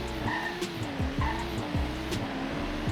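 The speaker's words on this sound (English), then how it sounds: "Those gearbox farts are great." A BMW M3 accelerating hard from 0 to 100 km/h gives a rising engine note that drops sharply at quick gear shifts, each shift marked by a short crackling gearbox fart, heard from inside with no talk.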